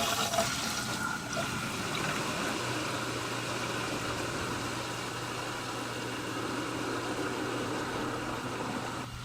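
Water rushes through newly fitted galvanized steel plumbing with a loud, steady hiss and roar that holds almost unchanged from start to finish, with no voices.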